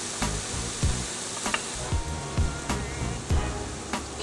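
Onions and fennel sizzle steadily in a pan, a constant frying hiss broken by several soft knocks of a spoon stirring, close and alone without any talking.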